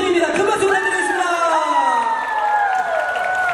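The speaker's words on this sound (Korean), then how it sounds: "큰 박수 부탁드리겠습니다" Audience applause and cheering at a girl-group game show event, with clapping and crowd voices under a synthesized rising-and-falling jingle that dominates the sound.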